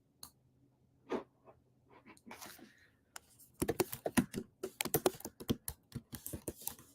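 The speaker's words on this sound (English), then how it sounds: "If I can type today." Keys on a computer keyboard clack in quick, irregular bursts while a message is typed, close and fairly quiet, after a few scattered soft taps.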